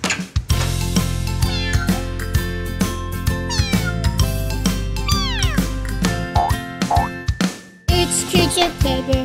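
A small cat meows repeatedly and loudly in close succession, its cries set over steady, tuneful background music in a children's playground song.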